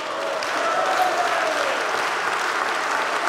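Dense, steady applause from a crowd at an association's members' meeting, sustained and fairly loud throughout with no voices above it.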